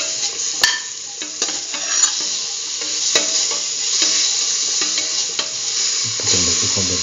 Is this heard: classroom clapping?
no